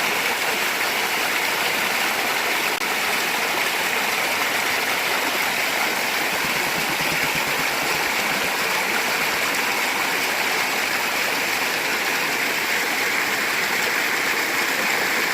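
A creek flows steadily during gold panning, its continuous rushing, gurgling water close and constant for the whole stretch with no voices.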